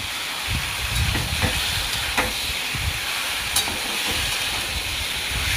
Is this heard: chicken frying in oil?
yes